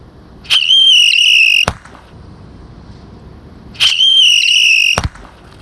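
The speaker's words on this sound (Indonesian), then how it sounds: "kita coba sekali lagi guys, black buster guys, dalam air ya. Sudah menyala." A Black Buster firecracker goes off underwater twice: each time a loud, steady whistling shriek of about a second ends in a sharp bang, with a quiet pause between the two.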